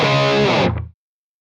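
A heavily distorted electric guitar, run through a Sinvertek Distortion No.5 pedal with the mids on full and the bass raised, sustains a brief chord that fades out quickly under a second.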